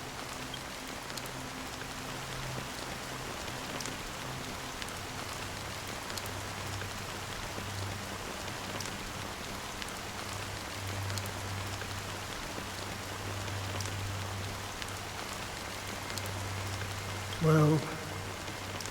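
Steady rain patters on surfaces in the Honkai: Star Rail game, a soft continuous hiss with a low hum beneath it and a brief thud near the end.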